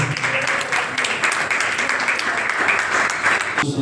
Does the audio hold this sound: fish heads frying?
no